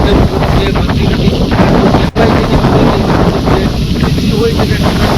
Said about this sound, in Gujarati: આ છે પોરબંદરનો દરિયા કિનારો